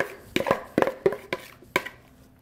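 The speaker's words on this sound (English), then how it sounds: "I am going to dump my veggies into the pan" Vegetables tumbled into a pan for a one-pan seasoned shrimp and veggie dish, making a run of close, sharp clattering thumps and scrapes that die away into quiet.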